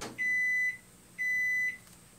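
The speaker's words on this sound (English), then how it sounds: "What it says to put it in the microwave for 1:10." A microwave oven gives two long, clear electronic beeps, each about half a second, spaced apart over a faint background hum.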